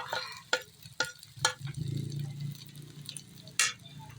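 Fried rice being stirred in a pan with vegetables and egg, a soft sizzle running underneath while a utensil scrapes and clinks against the pan in a few sharp, irregular strokes; no one speaks.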